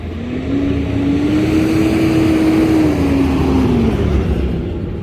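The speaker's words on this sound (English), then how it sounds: "I waited for that loud truck to go past" Loud truck passing close by outdoors near a garden, a steady engine roar with a rising then falling hum lasting several seconds.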